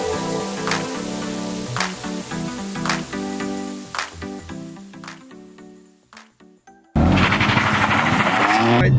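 BMW M4 driving on canyon roads, its engine revving in loud rising and falling pulls that fade briefly before a sudden burst of harsh roaring noise near the end.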